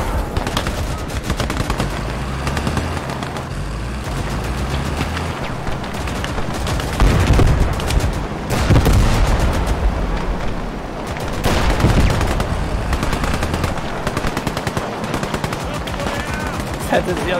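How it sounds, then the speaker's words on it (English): German tanks fire and heavy gunfire rattles in the World War II video game Call to Arms Gates of Hell, a dense, loud, continuous barrage with repeated booms that swell and ease across the stretch. "Can't tell where the German tanks are until they're firing at us."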